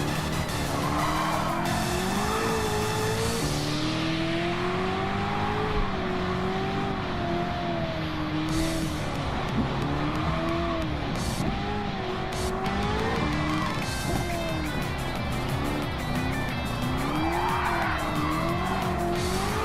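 Race cars, a Mitsubishi and an RX-7 among them, skid through on-throttle oversteer with loud continuous tire squeal over roaring, revving engines in a racing game series.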